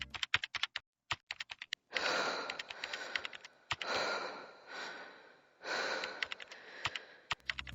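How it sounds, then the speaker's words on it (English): Typing from a Stephen King computer screensaver, a caricature of King at a keyboard: bursts of crisp close key clicks broken by long soft exhaling sighs, fairly quiet overall. "a little caricature of King typing away while his cat sleeps next to him"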